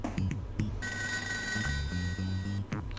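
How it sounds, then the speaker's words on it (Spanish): A telephone rings in the ToeJam & Earl video game, a sustained bright electronic ring of under two seconds heard over the game's bouncy background music. "Ahí está el teléfono."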